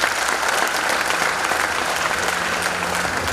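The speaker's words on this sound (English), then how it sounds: "Please a round of applause for him." An audience at an inaugural university lecture applauds Professor Oghara, with steady, loud, dense clapping that continues evenly throughout.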